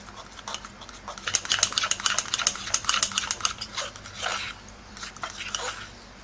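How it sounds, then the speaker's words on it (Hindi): A fork stirs mug cake batter in a mug, with a quick run of close scraping, clinking strokes that grows busier and then thins out into sparser taps. "अब अच्छे से हम इसको मिक्स कर लेंगे कि कोई लम्स वगैरह ना रहे और इसको फोर्क की मदद से ही हम इसको मिक्स करेंगे"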